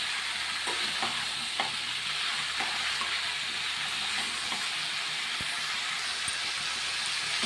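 Brinjal, potato and jackfruit seeds for a hilsa fish curry are stirred in a frying pan, with a low steady sizzle and regular soft scrapes and taps of the spoon against the pan.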